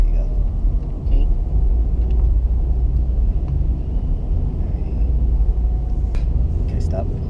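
Car with a manual gearbox pulling away during a driving lesson, its engine a steady low rumble under a cabin drone throughout, with no sharp revving, as people inside talk.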